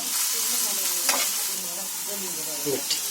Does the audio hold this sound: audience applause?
no